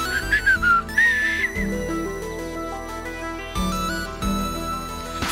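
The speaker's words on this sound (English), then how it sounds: "I can whistle 3 different ways." Whistling from a person, a wavering high melodic line heard up close, sliding at the start and repeating in a short phrase over loud, steady game music.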